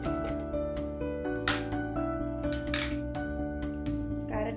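Chunks of apple, beetroot and carrot dropped into a mixer jar in a home kitchen, giving a string of light clinks and knocks against the jar at irregular intervals, close and clear with no talking.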